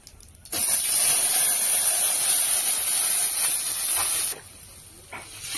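Water poured into hot oil with tempered cumin seeds bursts into a loud, close hiss that holds for about four seconds, then drops off sharply to a quieter simmering sizzle.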